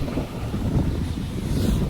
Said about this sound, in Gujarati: અહીંયા પવન આવે છે કઈક.